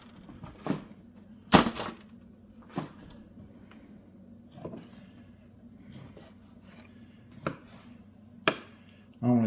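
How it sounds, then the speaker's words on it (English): Knife chopping chunks of wild pork on a board, a handful of sharp, separate chops spaced irregularly, with one louder clatter early on, close and fairly quiet over a low steady background hum. "gonna cut up some chunks of pork and just lay them flat in the bottom of this pan"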